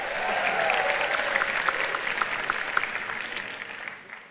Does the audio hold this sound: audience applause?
yes